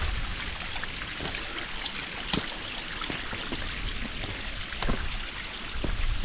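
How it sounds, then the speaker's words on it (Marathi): A mountain stream flows steadily on a trek to Jivdhan Fort, a continuous close rushing and trickling of water with no voices, broken by a few sharper splashes. "किती सुंदर असं पाण्याचा आवाज येत आहे"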